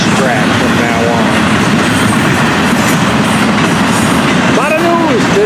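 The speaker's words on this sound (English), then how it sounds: "And a beautiful train to watch too here at sundown." A train rolls past at sundown on the FEC main line, a loud, steady rumble of wheels on rails with wheel squeal rising near the end and a voice briefly audible under the noise.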